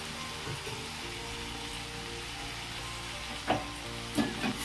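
Chili-mustard paste frying in a pan with boiled potatoes and red amaranth stems, cooked in little oil; a steady close sizzle runs throughout, with two brief louder bursts of stirring or spattering near the end.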